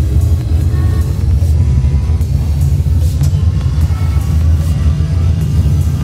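Engine roar from a flight simulator with the throttle pushed to full power for the takeoff roll, a loud, steady low rumble that holds at the same level from start to finish with no talking.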